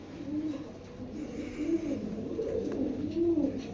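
Khaki Muslidom pigeons coo repeatedly nearby, soft rolling calls over a low background hum, no talking.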